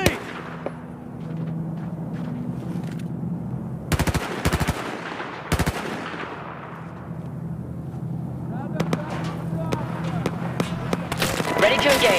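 Gunfire in the video game Battlefield 4, with rapid automatic bursts and sharp loud cracks against a steady rumbling battlefield background, and voices talking over parts of it.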